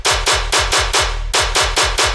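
Raw, unprocessed dubstep tear-out gun bass layered with a transient hit, firing in rapid, evenly spaced bursts with a short gap midway, each shot a loud, bright, punchy blast over a descending low growl, with no voices.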